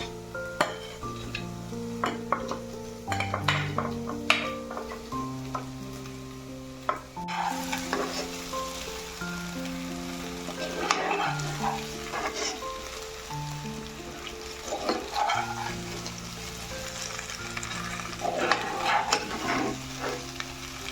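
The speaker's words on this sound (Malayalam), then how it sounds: "ഇതിലേക്ക് കൊഴക്കട്ട വേവിച്ച് വെച്ചത് ഇട്ട് കൊടുത്ത് നന്നായി പുരട്ടിയെടുക്കാം." A spoon stirs cooked kozhukatta dumplings through chilli flakes in a hot pan, scraping and tossing in repeated strokes over a soft sizzle, with no talking.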